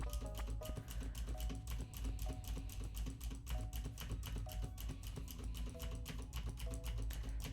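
A computer keyboard is hammered rapidly while playing Stardew Valley, a dense stream of fast clacking keystrokes at close range over faint game music with its light melodic tones.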